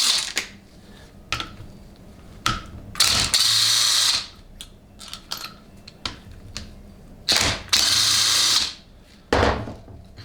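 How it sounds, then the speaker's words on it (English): A power tool whirs in short bursts, each lasting about a second, as 10mm bolts are backed out of a 6L80E transmission valve body casting, separated by faint clicks and handling noise and no voices. "Next, remove 10mm bolts that hold it to the casting."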